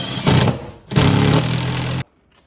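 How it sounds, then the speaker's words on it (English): Power driver with a socket bit running lag bolts into a wall for a floating desk: two loud close bursts of motor whine with rattling, the second longer, then a stop. "I'm gonna use my my socket wrench bit, or my socket bit, and just tighten these all the way up into the wall"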